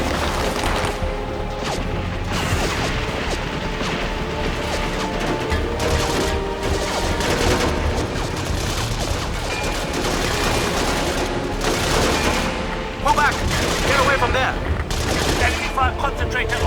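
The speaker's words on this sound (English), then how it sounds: "Friendly fire impacting our area." Friendly gunfire in the military shooter Battlefield 2: Modern Combat crackles continuously as dense fusillades and crashes under ongoing battle noise, with scattered radio-style chatter mixed in.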